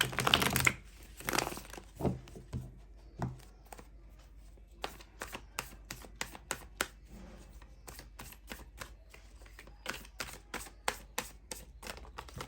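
A tarot card deck shuffled close up, with quick papery riffles and soft card slaps in an uneven rhythm, a burst at the start and then repeated short snaps, no voices.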